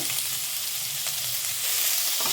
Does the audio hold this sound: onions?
yes